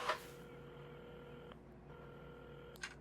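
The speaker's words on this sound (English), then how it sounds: "at the counter, Carmen had started dialing the phone." A telephone rings out with long steady electronic tones separated by a short pause, framed by a soft click at the start and end, heard in the game Assemble With Care.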